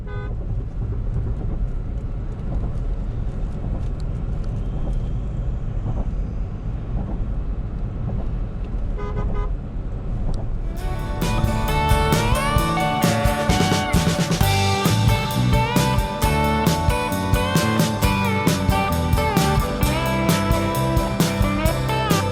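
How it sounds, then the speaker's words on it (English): Steady road and engine roar from a Ford Endeavour BS6 2.0L travelling at speed on a new highway, with louder, brighter tonal whine and rumble joining in partway through. "You can hear how fast the vehicle is cruising to this newly constructed highway."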